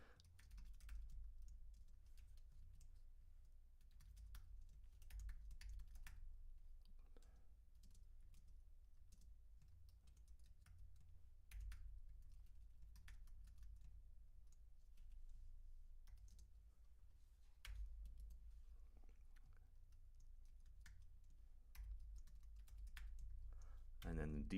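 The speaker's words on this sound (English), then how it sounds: "I was typing too fast" Rapid typing on a computer keyboard, a dense stream of faint key clicks running continuously for a long stretch, close but quiet, over a low background hum.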